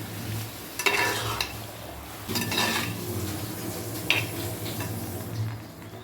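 Chicken curry stirred in a pot with a spoon, giving scraping and clinking strokes against the metal with a soft sizzle of cooking beneath, fairly close and steady, with bursts of busier stirring at intervals.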